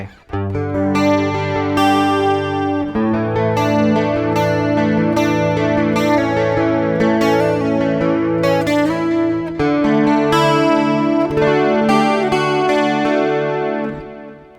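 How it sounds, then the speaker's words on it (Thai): Clean arpeggios on a Parker Nitefly M electric guitar with a delay effect, echoing repeats trailing each note, steady and moderately loud, no talking. "ใส่ดีเลย์เข้าไป"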